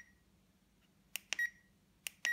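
ElectraStim EM48 remote-controlled stimulator beeping, two pairs of short, sharp electronic beeps each followed by a brief tone, close and clear over a quiet low hum.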